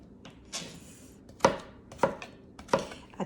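Vegetables for a root vegetable soup chopped into little pieces with a knife on a board, a handful of sharp, spaced knocks ringing out close by with no talking.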